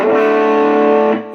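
Amazon electric guitar played through an amp with heavy gain distortion: a single thick, sustained chord rings out loud and alone for over a second, then cuts off into faint amp hiss.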